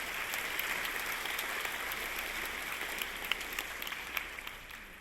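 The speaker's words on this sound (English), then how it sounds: "Let's give another round of applause for all of our speakers today." A round of applause for the speakers at a faculty convocation, steady, moderately faint clapping from an audience that continues throughout and slowly fades.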